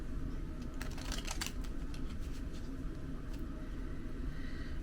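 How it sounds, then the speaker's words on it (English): Tarot cards being shuffled by hand nearby, giving a quiet flurry of soft papery clicks and riffles that bunch together briefly, then thin out over a low background rumble. "So I'm gonna shuffle the cards off screen and see what comes out for us."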